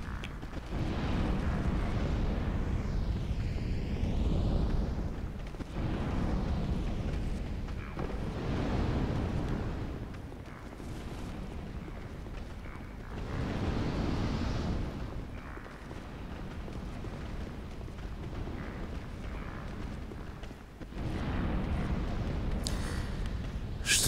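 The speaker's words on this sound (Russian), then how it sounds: "Блин, тут такой взрыв сейчас будет." Rumbling explosions in the video game Dark Souls 2 (Crown of the Iron King), a sustained roaring blast with several surging waves of deep booming noise over about twenty seconds.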